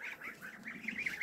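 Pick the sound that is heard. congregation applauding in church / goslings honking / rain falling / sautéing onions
goslings honking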